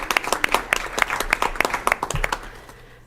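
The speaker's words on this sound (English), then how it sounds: "So please give all of them a round of applause before we even get started." Applause from an audience at a Surf City, North Carolina council meeting. Scattered hand claps patter at close range for about three seconds and thin out toward the end.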